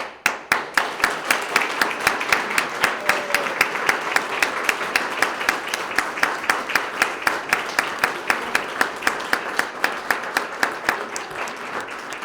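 A crowd claps in a steady, rhythmic beat that fills the room for the whole stretch, loud and even, at a police officers' swearing-in ceremony.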